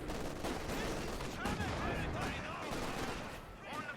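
Machine-gun fire and scattered gunshots from an MG-34 and anti-tank guns in a World War II strategy game battle, a steady dense rattle of shots running throughout under continuous commentary.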